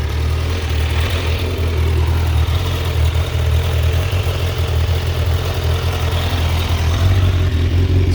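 A 2018 Honda CBR1000RR sport motorcycle engine idles steadily and fairly quietly with a low, even rumble, heard close and alone, with slight fluctuations and an exhaust valve for quieting.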